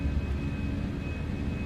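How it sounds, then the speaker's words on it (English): A Toliss Airbus A319 accelerating in the X-Plane 12 flight simulator, steady engine roar with low rumble, continuous and even throughout with no talk over it. "Airplane is accelerating nicely."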